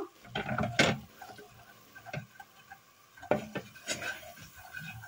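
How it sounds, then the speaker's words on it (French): Flour being mixed into melted butter in a pan for béchamel, scraping and clinking of a utensil against the pan in a few separate strokes with quiet gaps between, close and moderately loud, no talking. "Le beurre est fondu, je rajoute la farine et je mélange."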